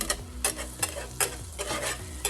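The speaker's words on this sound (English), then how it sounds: "Once the butter is completely melted, we're going to add some flour to start our sauce base." Flour being stirred into melted butter in a pan to make a roux for an Alfredo sauce: close scraping strokes of a utensil in a repeating rhythm over a faint sizzle.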